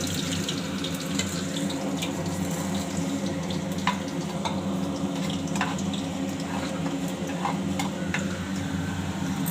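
Chillies sizzling in oil in a pan while making brinjal curry, a steady close crackle and hiss with scattered small pops throughout.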